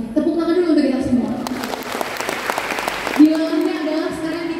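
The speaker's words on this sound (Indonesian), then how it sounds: "Tepuk tangan dulu untuk kita semua." An audience at a motivational talk in Indonesia breaks into clapping, a short burst of applause in the middle rising over a steady hum and crowd murmur, with some talk around it.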